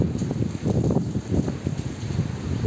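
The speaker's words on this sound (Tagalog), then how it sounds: "Grabe, ang lakas ng hangin at ulan." Strong gusty typhoon wind in Hong Kong roars and buffets the microphone, with a dense rushing wash of heavy rain underneath, continuous and close.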